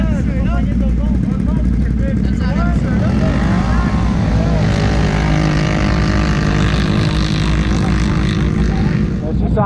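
Two ATVs, a Can-Am Renegade XMR 1000R and a Polaris Scrambler 1000 XP, drag racing, with loud, continuous engine roar that climbs in pitch as the throttles open midway through.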